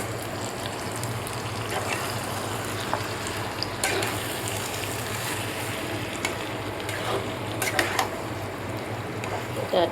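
Mutton frying in a pan for curry, a steady close sizzle and hiss with occasional stirring scrapes and faint clinks, continuous throughout.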